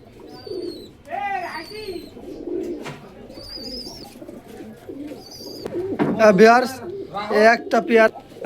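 Pigeons coo repeatedly nearby, with low throaty calls scattered through the clip while someone talks over them.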